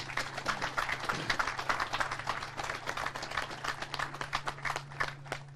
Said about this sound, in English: everyone deserves a round of applause there straight away